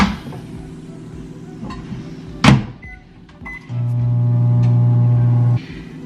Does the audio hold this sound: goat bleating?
no